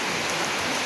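Heavy night rain pours down steadily in a village, a dense, even hiss of falling water with no break, loud and close.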